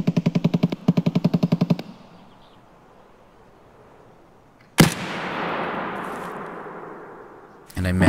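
Gunfire in the video game Escape from Tarkov: a rapid burst of about a dozen evenly spaced shots, then a quiet pause, then a single loud shot with a long echoing tail, and the start of another shot at the end.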